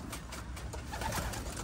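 Pet pigeons or doves coo softly in a quiet room, a few faint low calls over light background noise.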